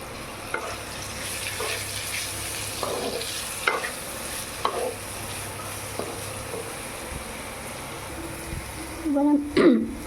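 Stalks stirred in a pan with turmeric and salt give soft, intermittent scraping strokes every second or so over a low sizzle, fairly quiet, ending with a brief clatter.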